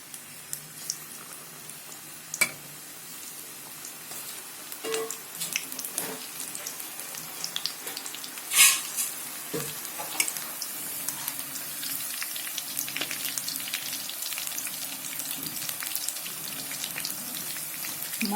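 Malabar spinach pakoda sizzles in hot oil over a low flame, a steady dense crackle and hiss with scattered pops and spits, close and continuous throughout.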